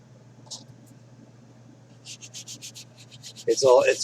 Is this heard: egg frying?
no